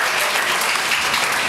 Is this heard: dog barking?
no